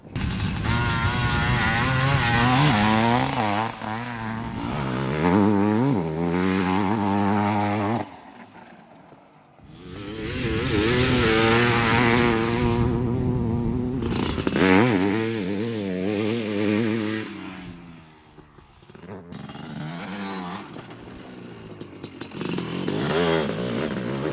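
A modified 2022 Honda 500 CR motorcycle engine revs hard in repeated bursts, rising and falling between short idle lulls, loud and close with no talk.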